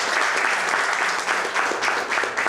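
A room full of people applauding at a business press conference in Oaxaca, dense steady clapping throughout with slight swells.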